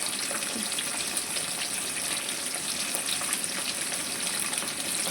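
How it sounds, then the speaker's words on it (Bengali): Fish frying in oil after being flipped to its other side, a steady close hissing sizzle with small pops, continuous and without speech. "আমি এখানে আরেক পিঠ ভেজে নিলাম, উল্টে দিয়েছি"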